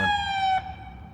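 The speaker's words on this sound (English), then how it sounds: "I heard a siren" A street siren sounds in Metropolis, Illinois, its loud, steady wail holding briefly before cutting off and fading into a quiet background.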